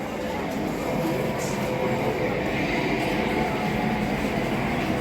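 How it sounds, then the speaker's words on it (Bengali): A passenger train pulls into a crowded station on a hot afternoon. A loud, continuous rumble and roar holds steady throughout, with faint crowd noise mixed in. "ট্রেন ঢুকে পড়ছে"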